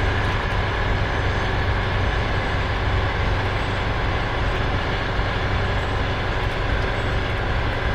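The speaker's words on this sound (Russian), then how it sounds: "Но это серьезный поезд, на Астрахань-Москва." The Astrakhan–Moscow passenger train rolls past on open steppe, a loud, steady, broadband rumble of wheels and carriages that holds constant throughout with no voices.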